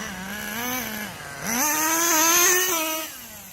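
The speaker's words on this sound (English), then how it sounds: "You can hear all 3 speeds shifting." A Schumacher Menace GTR radio-controlled car with a three-speed gearbox revs outdoors, its high engine whine climbing, dropping and climbing again as it shifts through the gears, loud and close with no talk.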